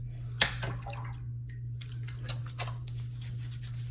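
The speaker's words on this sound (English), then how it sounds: "What I usually do is I'll pour it out into my hand" Bloom water from a shaving setup poured into a cupped hand before a coconut soap shave: a few soft drips and light splashes over a steady low hum, close and fairly quiet.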